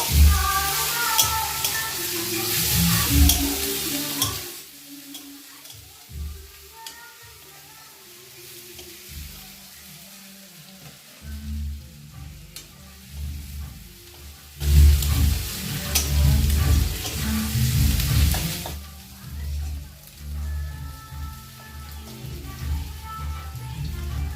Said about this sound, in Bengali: এবার এই তেলের উপরে রসুন বাটাটা দিয়ে দেব। রসুন বাটাটা দিয়ে আমি আর একটু ভালো করে নেড়ে নেব।